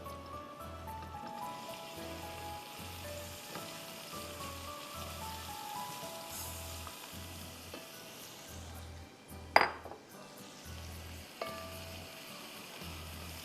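Chopped onions, about a cup, sizzling and frying steadily in a pan for chicken Banarasi pulao, a continuous crackling hiss with a few brief louder clatters and no talking.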